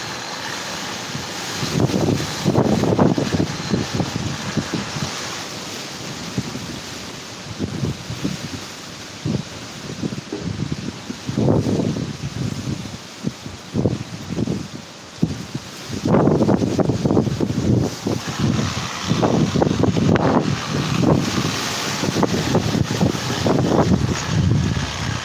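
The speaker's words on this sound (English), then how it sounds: "it's still very windy outside" Strong gusting wind during Hurricane Nicole in Melbourne, Florida, buffeting the microphone in irregular roaring surges with rustling foliage, loud bursts rising and falling over a continuous low rush.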